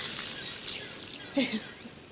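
Water poured from a vessel as an offering to the sun god, a soft splashing trickle close by that breaks into a few brief gushes and drips.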